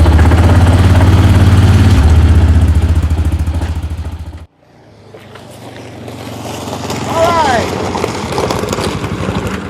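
A 2014 Massimo MSU500 HiSun EFI side-by-side UTV runs loudly up close, cuts out abruptly, then its engine note builds again as it drives away, with a brief voice partway through.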